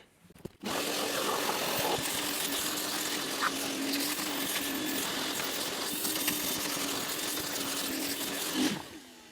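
A vacuum cleaner switches on after a short pause and runs steadily with a loud whirring roar, then begins to wind down at the very end.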